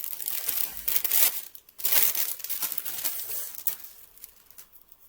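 Plastic wrapping from an AliExpress package crinkles and crackles up close in a few loud bursts of rustling and tearing, then fades into quieter handling.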